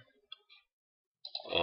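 A few crisp, quiet computer mouse button clicks in Windows 7, spaced apart near the start, then a voice begins talking.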